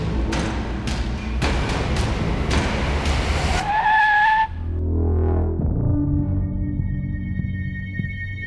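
A car's tires squeal loudly as it skids to a stop in a TV crime drama scene, with a shrill screech over rumbling engine noise that gives way to a lower idling hum. No one speaks.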